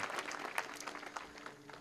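Applause from an audience at a Marathi devotional gathering, a short burst of crowd clapping with scattered sharp claps, steady and moderately loud throughout.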